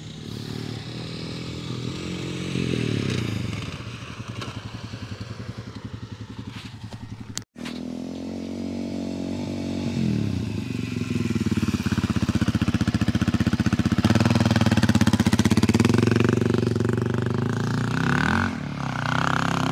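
Off-road adventure motorcycle ridden during a skills training session in South Australia, engine clattering and revving near the mic, rising in loudness through the second half with a brief dropout midway.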